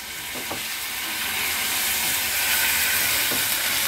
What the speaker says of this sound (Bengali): হাই ফ্লেমে কিন্তু ভাজাটা করতে হবে।